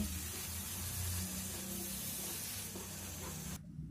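Ground roasted spice masala frying in a pan with a little water for a potol chingri curry, a steady loud hiss and sizzle that cuts off abruptly near the end.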